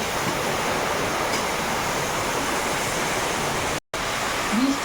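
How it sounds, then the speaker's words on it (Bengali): Heavy monsoon rain pouring down outside a window, a dense, loud, steady roar of falling water with no breaks apart from one brief dropout near the end. "যা বৃষ্টি হচ্ছে"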